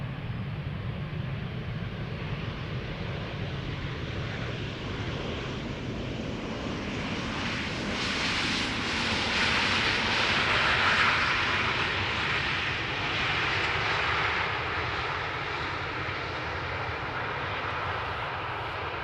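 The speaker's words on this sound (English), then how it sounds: "737-800, 10 years old, first flight May 2013" A ten-year-old Boeing 737-800 airliner arrives at Amsterdam Schiphol Airport with a broad, continuous jet roar that swells louder toward the middle as it passes overhead, then eases off slowly, with no voices.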